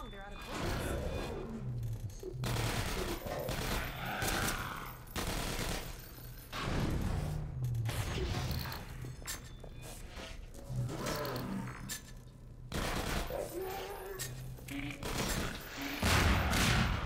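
Rapid bursts of automated turret gunfire echo through Half-Life 2: Episode One, repeated volleys rattling in waves for the whole stretch while a person talks over the shooting.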